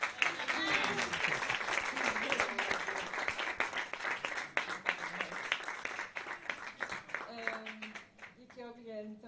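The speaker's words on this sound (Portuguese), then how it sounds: "uma salva de palmas também" A live concert audience applauds at Sala 6, the clapping steady and fairly close with a performer's voice talking over it, before the applause fades near the end.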